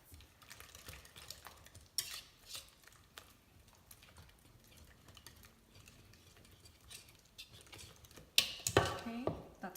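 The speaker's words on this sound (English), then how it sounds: "now I'm just gonna mix this with my whisk" A whisk stirs banana bread batter in a bowl with quiet, irregular scraping and clinking, growing louder and busier near the end, while a voice speaks faintly at times.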